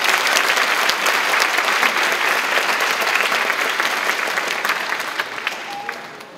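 A concert audience at a Korean family music event claps for the fusion group Rock Dream in sustained, dense applause that tapers off toward the end.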